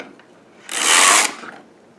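The carriage of a Sister toy knitting machine sweeps across the needle bed in a single rasping, whirring pass lasting about half a second, close and fairly loud, with quiet moments before and after.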